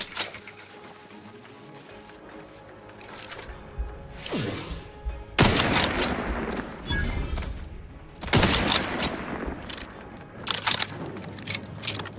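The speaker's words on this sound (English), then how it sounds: "Whoa, there's somebody shooting grenades over here?" Grenades or rockets firing and exploding in The Outer Worlds 2, several sharp loud blasts with crackling debris spread across the clip over quieter game ambience and music.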